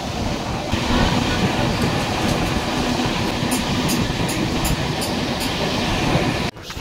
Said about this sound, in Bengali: এখানে ট্রেনটা দাঁড়াবে না